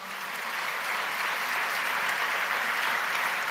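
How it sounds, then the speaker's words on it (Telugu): A group of people applauding at a gathering, with a dense, even burst of clapping held at steady loudness for a few seconds, no voices over it. "చప్పట్లు కొడదామా?"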